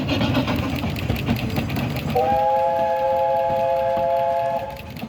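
A train rumbles and chuffs past nearby, then a steady multi-toned steam whistle sounds for a few seconds over the running noise.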